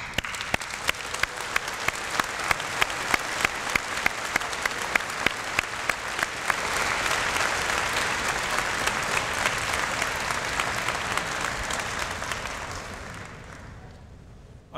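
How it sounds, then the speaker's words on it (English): A large convocation audience applauds a university's graduating class, producing steady, dense clapping with sharp individual claps on top that swells slightly midway and then fades out. "I think we owe a big round of applause to our newest"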